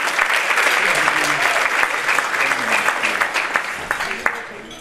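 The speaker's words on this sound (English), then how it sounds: "Let's give him another round of applause." An audience at an afternoon community event applauds steadily for several seconds, dense clapping that stays loud and fills the room, with a few voices mixed in before it begins to thin near the end.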